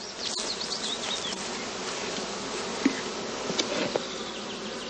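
Bees hum steadily around sealed nucleus boxes out on open heathland, a dense continuous buzz with a few individual insects passing close, no voices.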